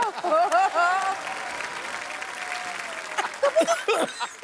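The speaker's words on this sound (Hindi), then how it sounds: "ओए तालियां भी" Studio audience applause on a Hindi comedy show, a steady burst of clapping that swells and fades under lively talk from the performers.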